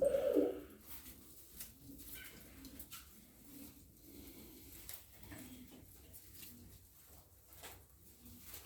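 Tumbler pigeons in a loft give soft, low coos in repeated short bursts over a quiet, steady background, with one louder coo at the very start.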